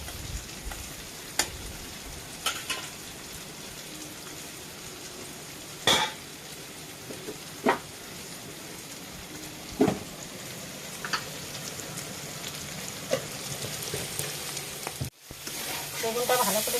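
Eggplant cooks with spices in a pan, an even, moderate frying hiss broken by scattered knocks of a utensil stirring, with a brief dropout near the end before the sizzle returns louder.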